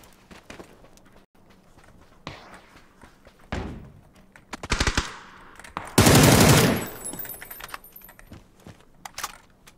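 A minigun in a shooting video game fires in rapid sustained bursts, loudest in one long roaring stretch, mixed with sharp clicks and thuds and no talk over it.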